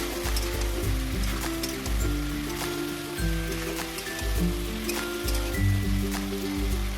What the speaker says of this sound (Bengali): এবার মশলাগুলো ভালো করে কষতে হবে আনাজের সঙ্গে।